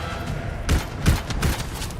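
Gunfire from a really large gun in the video game Anthem, a few heavy broadband blasts at roughly half-second spacing, loud and close over a rumbling game backdrop, with no talking.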